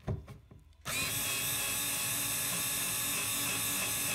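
A power drill drives screws into an IKEA Kallax shelf during assembly, starting after a few soft handling knocks and then running as one continuous, close, loud whir.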